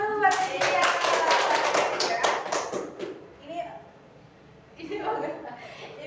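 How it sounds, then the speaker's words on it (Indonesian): Children in a classroom clap their hands together for a classmate, a dense burst of claps lasting several seconds before fading into murmuring voices and a brief second round. "Tepuk tangan dulu buat dia."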